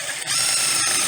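A screw is driven by a power drill into a thin 1x2 strip of wood that is starting to split near the head, giving a short, close, steady whirring grind with a brief dip partway through.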